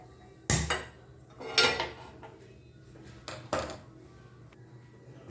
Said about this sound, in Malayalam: പാൻ വെച്ച് സ്റ്റവ് കത്തിക്കാം.